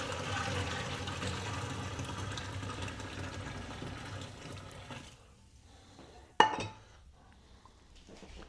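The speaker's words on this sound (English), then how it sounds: "In goes the boiling water." Boiling water pours steadily into a dye bath for a military surplus vest, a continuous close splashing stream for about five seconds that then stops, followed by quiet and a single sharp clink.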